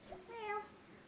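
Cat in the video game The Sims 4 giving a single short, clear meow, quiet and close, with no talk over it.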